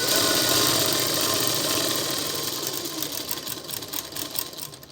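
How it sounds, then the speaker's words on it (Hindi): A sewing machine stitches a salwar seam, its rapid motor whir loud at first, then easing into a choppier, slowing rhythm near the end. "अब देखिए इस तरह हमने सिल देना है।"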